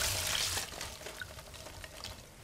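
Lemon zest steeped in alcohol for limoncello is strained, and the liquid trickles and drips faintly and briefly close by. No one talks.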